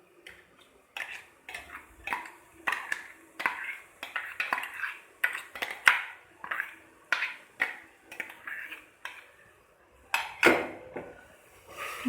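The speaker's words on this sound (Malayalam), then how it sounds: "നമുക്കതിലേക്ക് ചിക്കൻ ചേർത്ത് കൊടുക്കാം." Chicken added to softened vegetables and mixed in a pan for chicken soup, a close series of irregular metallic clinks and taps of the utensil against the pan with quiet gaps, no talking.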